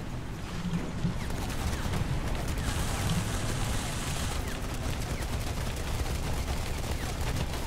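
Enemy armored vehicle firing in War Thunder during a battle with armored cars and trucks: dense, sustained rapid bursts of gunfire rattle continuously at moderate level throughout.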